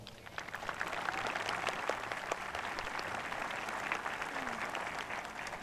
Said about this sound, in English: So I want you all to give yourselves a round of applause.